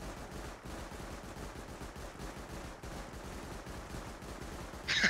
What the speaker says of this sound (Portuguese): As torretas, né? Ué, por que que ela só atirando?